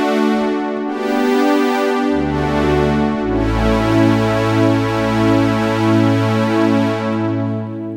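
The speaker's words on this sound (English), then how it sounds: "So now we've taken our 3 sawtooth waves, and now they sound like this." Three detuned free-running sawtooth waves stack into a thick, wide synth pad, sustained and loud with slow phasing shimmer as the notes shift in pitch, playing alone without any voice.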